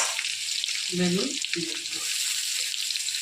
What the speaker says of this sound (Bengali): ওই তেলের মধ্যে আলুটা ছেড়ে দিলাম, আর নুন আর হলুদ দিয়ে একটু ভেজে নেব।